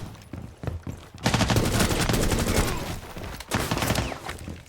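Rapid, loud bursts of automatic gunfire ring out in a Rainbow Six Siege gunfight, dense volleys that pause briefly and then resume, with no talking over them.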